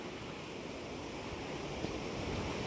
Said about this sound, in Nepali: ल यही झर्ना जस्तो छ यत्रो ठुलो पानी परेर